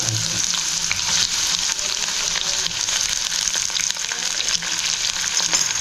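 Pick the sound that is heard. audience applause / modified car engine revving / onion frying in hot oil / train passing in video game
onion frying in hot oil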